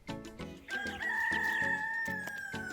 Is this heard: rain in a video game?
no